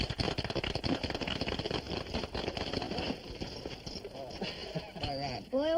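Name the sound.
horse hooves while being ridden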